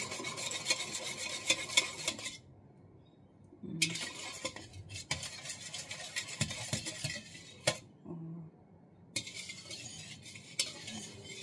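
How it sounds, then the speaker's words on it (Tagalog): Whisk scraping briskly in a bowl of ketchup barbecue marinade, dense rapid metallic stirring in bursts of a few seconds broken by short pauses, close and moderately loud. "Tapos gumamit na lang ako ng whisk para lumapot siya ba."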